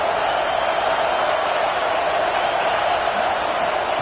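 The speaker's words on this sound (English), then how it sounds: "This crowd bringing the energy and noise early." A crowd at a football stadium for a Michigan game fills the air with a steady, dense roar of cheering, with no break in the noise.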